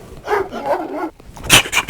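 A dog makes a drawn-out, whining vocal sound, then after a short pause lets out a sharp, loud bark followed by a quieter burst, close by with no talking over it.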